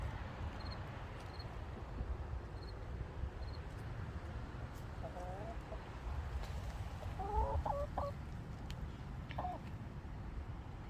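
Faint clucking from chickens off in the distance, a few short bursts over steady outdoor background noise.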